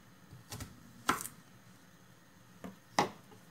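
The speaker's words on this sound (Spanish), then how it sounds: "Vamos a picar el ajo como sea." Garlic is chopped with a knife, producing a few sparse, soft knocks on a board spaced about a second or more apart against a quiet background.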